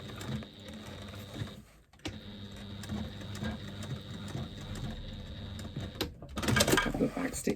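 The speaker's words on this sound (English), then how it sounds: "A couple of back stitches to secure your stitching." A sewing machine runs steadily while back-stitching to secure a seam on a woven bag, a continuous mechanical whir with a brief pause near the middle and a louder burst at the end.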